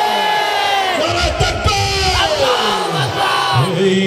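Large crowd at a rally chanting the Bengali call-and-response slogan Naraye Takbir, Allahu Akbar, a loud, close mass of voices rising and falling in long sustained shouts.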